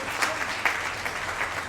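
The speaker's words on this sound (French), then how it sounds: "Acclame le Saint-Esprit" A church congregation breaks into brisk applause, a dense wash of clapping with a few sharper peaks and voices mixed in.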